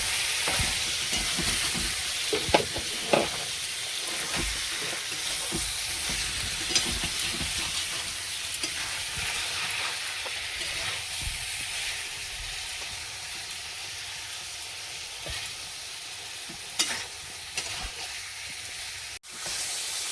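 Cumin powder and salt fry in a hot pan, giving a loud, continuous sizzle with occasional scraping clicks of a spoon stirring, close and unbroken throughout.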